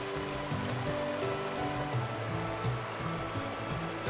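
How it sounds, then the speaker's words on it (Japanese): A river flowing through snowy Kamikochi in midwinter, with a steady, dense rush of water that stays continuous and fairly close throughout, with no voices. "本日の川の様子はこんな感じです。"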